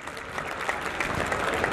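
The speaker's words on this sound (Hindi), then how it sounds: "तालियां बजाकर इनका हौसला अफजाई करें।" Crowd applause at a college annual athletic meet honoring medal-winning students, a steady wash of many hands clapping at moderate distance.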